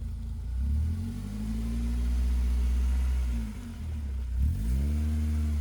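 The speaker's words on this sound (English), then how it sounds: "We're gonna see how it handles going up over the curb" A BMW Z3 rolls up over rubber curb ramps, its engine giving a low, close rumble that swells as it climbs, dips briefly, then revs again.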